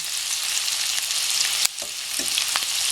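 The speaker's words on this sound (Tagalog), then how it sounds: "Ipa-fry po natin ito hanggang maging brown siya." Chicken pieces fry in hot oil in a pan for a chicken tomato dish, giving a dense steady crackling sizzle, close and moderately loud, with a brief clack of a utensil partway through.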